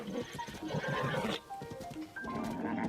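Horse in Zelda: Tears of the Kingdom neighs and whinnies in a loud, close, wavering call lasting most of the moment, with a brief pause and a shorter second whinny.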